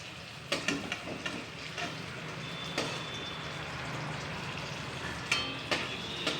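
Flattened pakoras fry in oil, a fairly quiet continuous sizzle broken by several sharp scrapes and taps of a utensil pressing and turning them.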